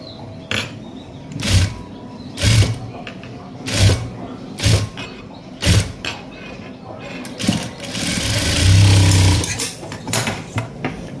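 A sewing machine stitches piping onto a blouse, running in short bursts of a few seconds, with a longer continuous run near the end, and speech in between.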